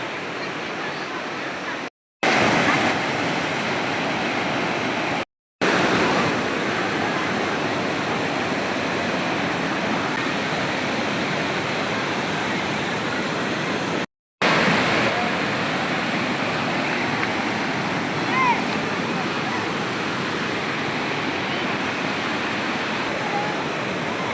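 Sikhaparuvu waterfall roars as a steady, dense rush of falling water, close and loud, with three brief dropouts where the sound cuts out.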